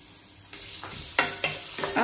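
Ginger and garlic sautéing in a pan for ginataang ampalaya at sitaw, a steady sizzle with several sharp stirring scrapes and crackles, close and alone.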